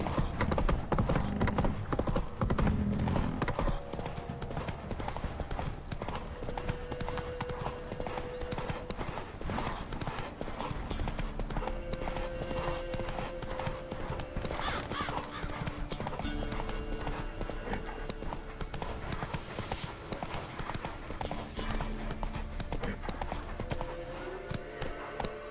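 Horse hooves clip-clopping at a steady walking rhythm in The Witcher 3: Wild Hunt, continuous and fairly loud over a game soundtrack and ambient background for the whole stretch.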